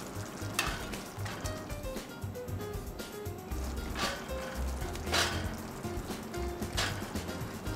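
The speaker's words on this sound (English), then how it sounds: "Return the loin chops to the skillet and cover the meat with the sauce." Veal loin chops in tomato sauce sizzling in a skillet, a close, continuous frying crackle with soft bubbling and a few scraping stirs or sputters on top.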